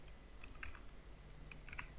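Light typing on a computer keyboard while entering a watermark name into a PDF editor: a few soft, sparse keystrokes in small clusters, faint against a quiet room hum.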